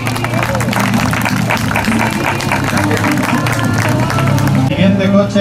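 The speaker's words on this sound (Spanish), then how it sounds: "Un fuerte aplauso." An audience applauds loudly and steadily at a historic vehicle presentation for an international classic car route on the Costa del Sol, sustained clapping with crowd murmur filling the whole stretch.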